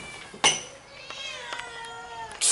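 A voice imitates a cat's meow, giving one drawn-out, wavering meow that is close and loud, with short breathy sounds around it.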